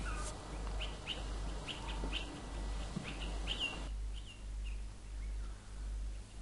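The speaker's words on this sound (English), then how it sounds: "with a nice sound of the birds in the background" Birds chirp and call in short bright bursts over a low steady hum, a few scattered tweets continuing more faintly later.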